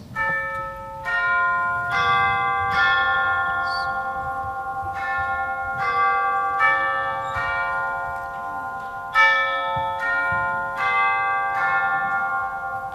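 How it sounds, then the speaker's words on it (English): A clock chime rings out in a slow series of resonant bell strikes about once a second, each tone overlapping and fading into the next, chiming 11:15 during a school stage play. "The chimes were ringing 11:15 at that moment."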